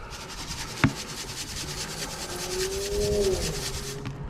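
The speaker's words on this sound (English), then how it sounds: "I only sieve it so that I can make sure I get all the chunks" Ground gold-plated powder from flat-pack electronics, with coarse bits of plated legs mixed in, is shaken through a sieve, giving a soft, continuous rasping rub with one sharp tap near the start.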